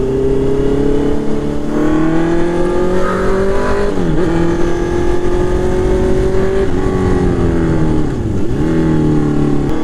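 A Honda CB650R motorcycle, tuned to stop backfiring, holds a loud, smooth engine note as it revs and downshifts through the gears, with pitch dips at each shift and no pops or talk.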